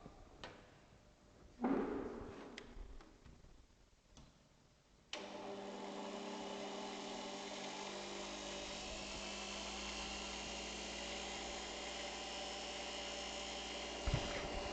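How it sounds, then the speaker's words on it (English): Air blower of a forced convection heat transfer lab rig starts after a few faint knocks and then runs continuously, a steady loud droning hum with a tonal whine throughout. "I think you are hearing the sound of the blower"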